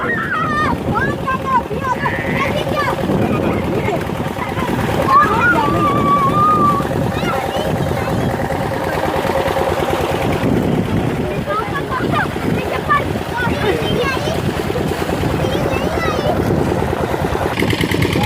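A tubewell's engine runs steadily with a constant hum and a regular chugging pulse, while someone talks over it throughout and wind buffets the microphone.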